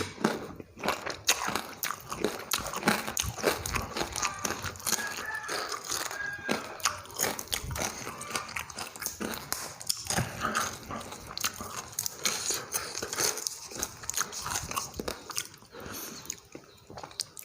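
Close, wet chewing and crunching of Khmer-style papaya salad, with steady bites and mouth sounds across the stretch, alone and without speech.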